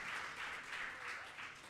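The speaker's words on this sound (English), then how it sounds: "Please, let's give one more hand clap to Ms. Lamani." Audience applause at a Commonwealth Hansard Editors Association conference session, a steady wash of hand clapping that is fairly faint and distant, with no talk over it.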